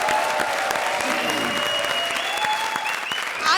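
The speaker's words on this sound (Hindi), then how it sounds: "जोरदार तालियां चाय के लिए।" A studio audience at a Hindi stand-up comedy show bursting into loud sustained applause, a thick roar of clapping with some crowd noise and a faint tone drifting underneath.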